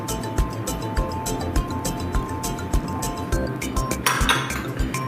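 A spoon clinks repeatedly against a bowl while coleslaw dressing is stirred and whisked, giving sharp, close metallic knocks in an irregular rhythm over a steady background bustle.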